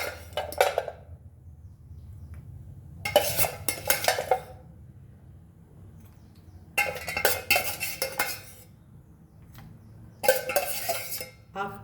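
Potatoes and cooked mutton trotters tumble into a curry pot, giving four separate bursts of clattering, scraping metal-and-utensil noise between quiet gaps, close and fairly loud with no talking.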